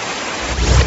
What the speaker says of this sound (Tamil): மன்னார்குடி, கோட்டூர் உள்ளிட்ட பகுதிகளில் மதியம் கனமழை வெளுத்து கட்டியது